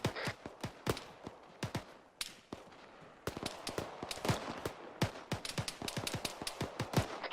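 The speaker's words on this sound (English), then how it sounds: "Shots." Sharp gunshots crack in irregular bursts throughout infantry squad training on a road, some close and loud, others fainter, with rapid clusters suggesting exchanged fire and no talking.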